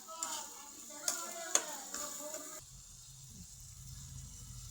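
Ground coriander, pepper and biryani masala frying in a pan for butter chicken, a soft steady sizzle with a few sharp clinks and scrapes of stirring early on, then a quieter low bubbling simmer.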